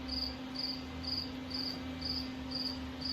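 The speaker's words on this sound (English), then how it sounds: "There's a lot of crickets out here" Crickets chirp at dusk in a steady, evenly spaced pulsing trill repeating about twice a second, moderately close over a faint low hum, with no talking.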